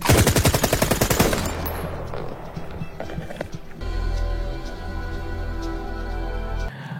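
Kalashnikov rifle fire in a film: a rapid automatic burst opens loud and close, then gives way to quieter scattered shots and movement over a low background rumble.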